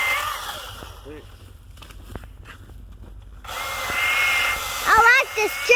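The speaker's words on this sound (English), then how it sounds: "I like this chainsaw!" A chainsaw working through a felled tree for firewood whines close by, drops to a lower, quieter idle for a couple of seconds, then revs back up loudly while voices briefly cut in near the end.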